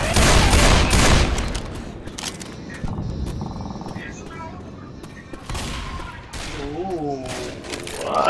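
Video game gunfire in Left 4 Dead 2: a loud burst of rapid shots up front, then scattered weapon blasts and game noises, with players talking and shouting over the action.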